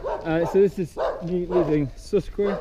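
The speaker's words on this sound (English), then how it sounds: "Excuse my barking dog." A dog barks repeatedly in a village in the Andes, the sharp barks falling between and under a man's close, steady talking.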